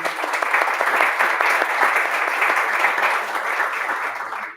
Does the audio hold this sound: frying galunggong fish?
no